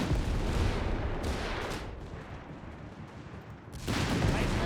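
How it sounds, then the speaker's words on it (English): Artillery bombardment by a Pak gun on a Bofors position in the Company of Heroes 3 strategy game, with heavy booming blasts and rumbling gunfire, loud bursts at the start and end over a sustained low roar. "Pack 49 to bombard here, the Bofors."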